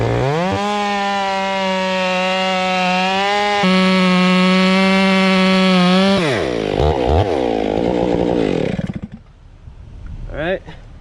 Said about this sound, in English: I'm gonna bore some of this wood out, just get a little more wood out.